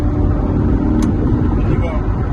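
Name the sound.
Corvette C8 Stingray engine while downshifting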